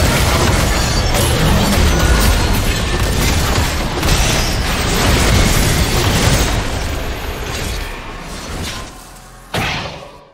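A turret being destroyed in a League of Legends match erupts as a loud, sustained explosive crash lasting several seconds, then fades, with a final short burst just before the end.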